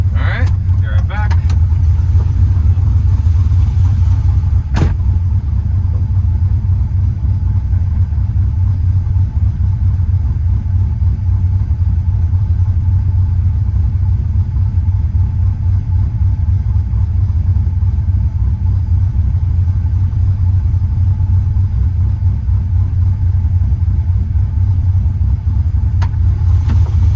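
A restored 2004 Pontiac GTO on the move, its engine and road noise a steady low rumble heard from inside the car, continuous throughout with a brief click early on.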